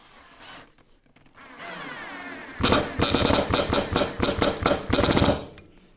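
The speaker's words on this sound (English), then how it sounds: "All that tapping, okay, is the bit actually coming out." A power drill bit camming out of a hard drywall screw head, giving a close, loud burst of about a dozen rapid rhythmic rattling taps after the motor whine.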